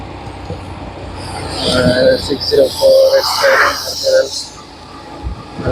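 A train rolls past on Purulia-area tracks with a rising rumble and tonal, horn-like pulses midway, heard outdoors during a motorcycle ride while someone talks over it.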